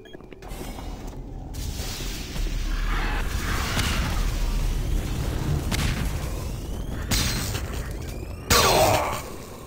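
Explosions in Doom 3 boom repeatedly over a sustained rumbling roar, with sharp whooshes and a louder blast near the end.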